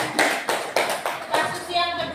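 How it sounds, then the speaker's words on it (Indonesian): A school class claps for a student, a few quick rhythmic bursts of hand claps close by, with children's voices mixed in. "tepuk tangan untuk Sherlyn"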